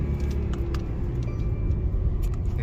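A Mercedes E63S luxury sedan accelerating hard, its engine heard as a steady low rumble with road and wind noise, fairly close and without talk.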